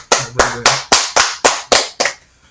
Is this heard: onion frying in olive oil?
no